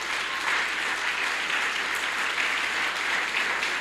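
Church congregation at an evening service applauds steadily, a dense and even wash of clapping that holds at full strength throughout without any voices rising above it.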